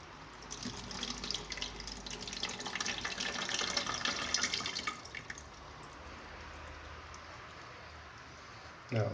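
Homemade kefir poured from a jar through a strainer, a close liquid trickle and dripping that lasts several seconds and then fades to quiet handling noise, with a clunk at the end.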